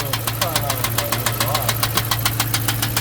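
A Hemi V8 engine with a bent pushrod runs with a steady, rapid metallic knock ticking over a low engine drone, loud and close, repeating evenly throughout.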